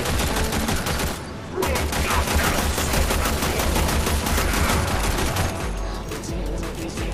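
Dense, continuous rapid gunfire in the Warframe video game roars loud and close, an almost unbroken fusillade with a brief dip near the start.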